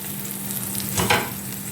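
Steady sizzling of flatbread frying in an oiled pan, close up, with a brief louder hiss midway.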